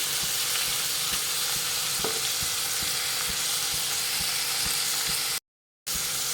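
Dried red chillies hitting hot oil for a baby corn curry, a steady loud sizzle and hiss close by with light stirring taps, broken by a brief total silence near the end.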